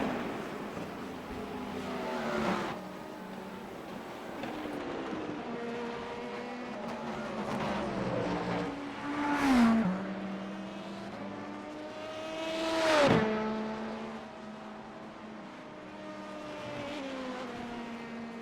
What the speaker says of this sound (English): Closing in on a slow LMP2 car there.